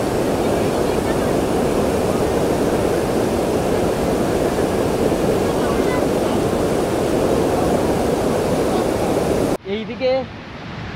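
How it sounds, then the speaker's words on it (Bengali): Strong river current rushing past a bathing spot near Sasaram, a dense, steady roar of flowing water, loud and continuous, briefly broken by a short cut near the end. "কিছু কিছু জায়গায় জলের স্রোতটা বেশি আছে।"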